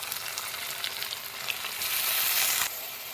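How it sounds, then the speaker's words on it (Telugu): Chopped tomato pieces frying in a pan for tomato rasam, a steady close sizzle with light stirring scrapes that swells louder midway, then settles back. "ముందుగా కట్ చేసి పెట్టుకున్న టమాటా ముక్కలు వేసుకున్నాం."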